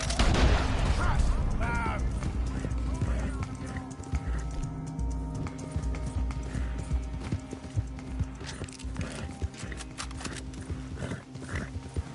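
Steady clip-clop of horse hooves trotting in the video game Red Dead Redemption 2, close and continuous, with a brief whinny near the start and some background ambience.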